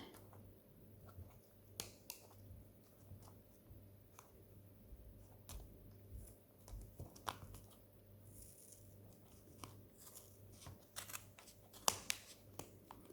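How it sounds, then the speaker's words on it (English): Scissors cutting through wool for a llama cushion, sparse irregular snips and small clicks, faint and close over a low background hum. "So I've cut along one side, and now I'm going to cut the other side."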